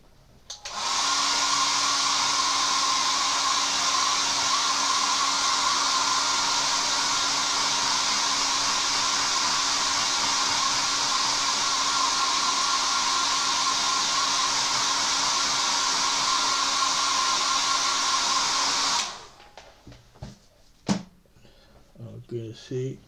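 A hair dryer blows steadily to dry paint on a 1/72 Zvezda Kamov-50 model kit, a loud, even whoosh with a whining tone that runs for about nineteen seconds before cutting off, leaving faint handling noises.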